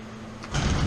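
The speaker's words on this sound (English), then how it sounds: "let's get this garage door shut up" A brief mechanical rumble and rattle starts partway through, like a garage door rolling down, with a low grinding that grows louder toward the end.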